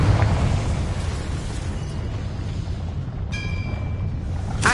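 A Confringo spell explosion in Hogwarts Legacy, a sustained low rumbling burst that stays loud throughout, with a brief bright ringing tone partway through and a sharp crack at the end.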